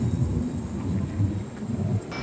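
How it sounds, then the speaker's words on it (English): Low, steady engine rumble fills the inside of a moving train, recorded on a Sony ECM-M1 microphone; a continuous, fairly loud drone with no talking, ending in a slight change of tone. "this should be helping to eliminate some of that low level train engine noise that's kind of all around in an environment like this one"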